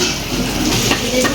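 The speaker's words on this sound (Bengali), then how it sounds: "ভালো একটু লাল লাল করে ফ্রাই করে দেবো এটা।" Food frying in a pan for a Bengali meal, a steady sizzle with light utensil scrapes and stirring.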